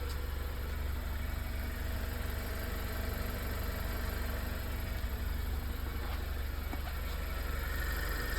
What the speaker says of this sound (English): Here it is, idle sound.